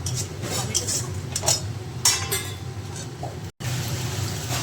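A spoon scrapes and clinks against a pan as a bhetki fish mixture with potato and salt is stirred and sautéed, with repeated metallic knocks over a soft background hiss and a brief dropout near the end.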